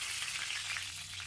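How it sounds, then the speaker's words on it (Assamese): Whole cumin seeds and bay leaves fry in hot oil, producing a quiet, even sizzle that continues without pause and with no voices. "মই এতিয়া প্ৰথমে গোটা জিৰাখিনি তেজপাতকেইটা দি ল'ম তাৰপিছত গোটা জিৰাকেইটা দিম"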